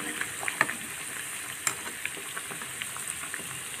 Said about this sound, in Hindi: फिर अलट पलट अलट पलट कर गोल्डन ब्राउन कर लें